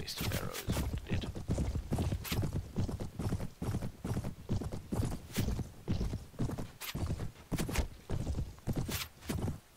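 Horse hooves clip-clop steadily in a Mount & Blade medieval battle game, a fast rhythmic galloping beat of close, loud hoof strikes with occasional neighs running throughout.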